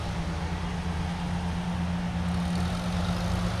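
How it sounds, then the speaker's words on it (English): Engine of a John Deere row crop 77 tractor runs at a steady, low idle drone during an outdoor Fourth of July parade, heard at moderate distance with no talking. "Let's listen to the motors."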